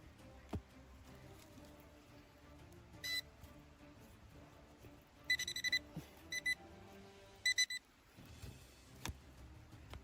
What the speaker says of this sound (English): Now let's look again with our little detector.